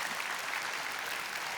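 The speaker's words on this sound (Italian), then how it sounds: "ancora un applauso." Steady applause from an audience at a regional tennis gala awards ceremony, a dense continuous clapping wash with no pauses or talk over it.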